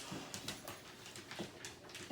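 Dogs whimpering and whining in a home kitchen, a few soft high cries scattered over steady low room noise and light clatter.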